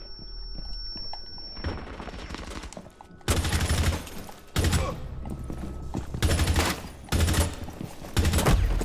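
Gunfire in Rainbow Six Siege ranked play: after a quieter start, several loud, sharp bursts of automatic shots crack out in separate clusters, with short pauses between them.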